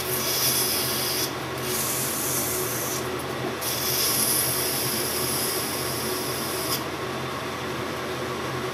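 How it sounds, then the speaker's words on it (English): Continuous abrasive rubbing of emery tape against metal on a lathe, a steady scratchy hiss with a few brief pauses, close and fairly loud over machine hum. "Little touch of the emery tape"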